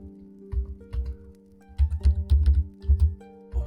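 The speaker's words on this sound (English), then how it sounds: "What am I typing today, Bob?" Typing on a computer keyboard during C++ programming, with bursts of rapid key clicks and heavier taps, close and clear, over a steady low electrical hum and faint tones.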